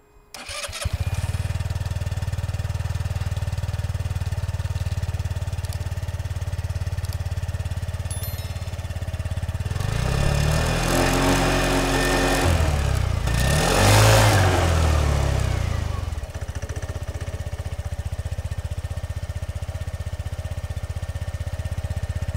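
SYM Jet 14 125cc scooter engine running at a steady idle close by, with a stronger surge of engine noise partway through before settling back to a constant hum.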